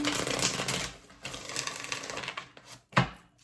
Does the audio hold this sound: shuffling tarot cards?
yes